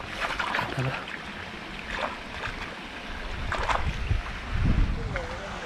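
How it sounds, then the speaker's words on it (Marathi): Muddy hands are washed in stream water, giving soft splashes and sloshing close by over steady outdoor flowing and wind noise, with a few scattered voices. "हात पहिला धुवून घ्या पूर्ण माती लागल्या"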